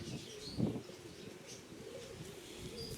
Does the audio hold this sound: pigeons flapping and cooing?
yes